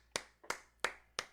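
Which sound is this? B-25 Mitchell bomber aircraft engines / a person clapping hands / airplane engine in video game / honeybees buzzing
a person clapping hands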